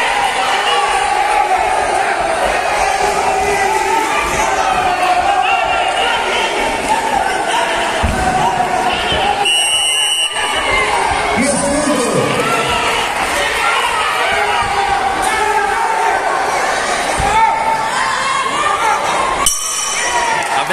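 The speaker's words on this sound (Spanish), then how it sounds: "Aplausos de todo Granada." Spectators at a women's 118 lb boxing bout in Granada applaud and cheer in a loud, sustained crowd roar with shouts and scattered voices, plus a few sharp clinks and knocks, continuing for about twenty seconds.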